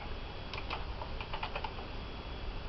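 Fingers type a title on a computer keyboard in a short run of quick, light key clicks, close and fairly quiet over a faint background hiss.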